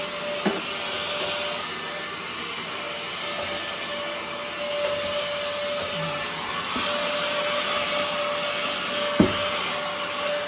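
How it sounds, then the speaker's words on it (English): A vacuum cleaner runs steadily inside a refrigerator during cleaning, a loud continuous whine with a high tonal hum, with occasional small knocks and clunks as the nozzle bumps the interior. "So overlook the noise on the vacuum."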